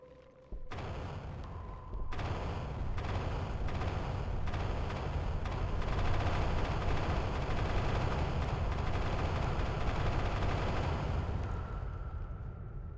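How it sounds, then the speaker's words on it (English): Bombs dropping in the sandbox game Worldbox give a dense, continuous rumble of overlapping explosions that holds for many seconds at steady loudness and thins slightly near the end. "Also drop bombs."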